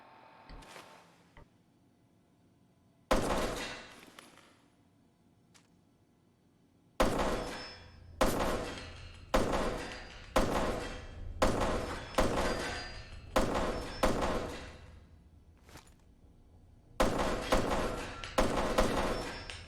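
A quiet unsuppressed rifle in Fallout 4 fires a steady run of about a dozen thudding shots, single shots first and then a quick rhythmic string, loud and close with no talking.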